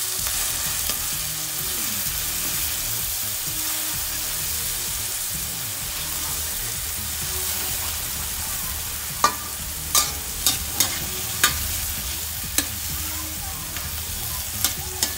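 Tomatoes for a sardine and Baguio bean dish sauté in a pan with a steady sizzle, joined later by a run of sharp clinks of a utensil against the pan.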